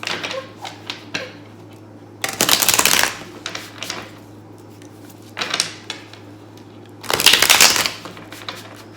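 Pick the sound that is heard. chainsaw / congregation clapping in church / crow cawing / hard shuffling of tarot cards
hard shuffling of tarot cards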